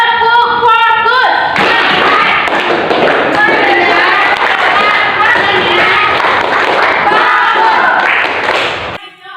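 Loud group clapping from children in a classroom rhythmic clapping game, heard close up with voices chanting and shouting over the claps throughout, ending abruptly.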